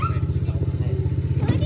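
An ATV 125 engine idles and revs close by with a steady low pulsing drone, while someone talks over it.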